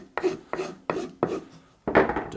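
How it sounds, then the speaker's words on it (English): Rough file rasping along the edge of a shoe last to trim off excess tape, with five loud, close scraping strokes in a steady rhythm and no talking. "the easiest way to do that is take a rough file"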